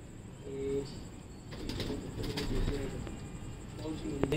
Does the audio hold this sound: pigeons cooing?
yes